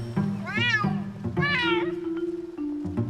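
A cat in Skyrim gives two drawn-out, rising-and-falling meows close by, each lasting about a third of a second, over a steady low in-game hum.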